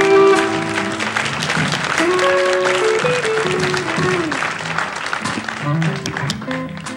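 An audience gives warm applause to a swinging soul orchestra, steady clapping that stays up for the whole stretch, mixed with sustained instrumental tones and a crowd voice or two.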